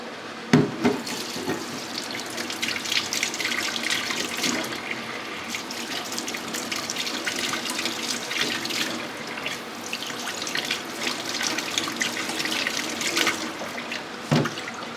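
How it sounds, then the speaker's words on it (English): Tap water runs steadily into a sink while eggs are washed under it, a continuous splashing hiss lasting throughout, with brief clunks at the start and end. "we're going to wash the eggs because we're going to boil it"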